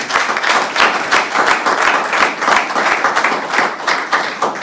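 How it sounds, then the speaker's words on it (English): Audience at an outdoor groundbreaking ceremony for a Sarasota aquarium applauding, a dense, steady wash of many hands clapping at moderate distance, sustained without a break. "Can we have a round of applause for Dr. Crosby?"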